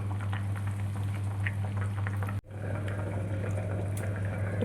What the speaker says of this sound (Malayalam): തിളച്ചിട്ടുണ്ട്